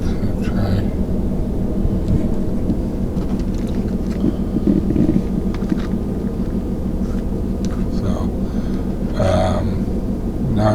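A car engine idles steadily, a low continuous rumble with a droning hum that runs throughout, close by and fairly loud, with faint handling noises on top.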